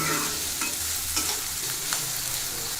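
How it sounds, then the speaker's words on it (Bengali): Chilies and onions fry in oil for a small-fish and potato chorchori, crackling and sizzling close by as a spatula stirs with occasional scraping strokes. "এবার মরিচ এবং পেঁয়াজগুলো একটু নেড়ে চেড়ে নিচ্ছি"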